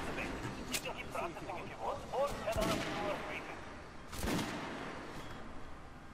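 A few sharp, isolated sniper rifle shots in the video game Metro: Last Light Redux, spaced seconds apart and fairly close, mixed with someone talking.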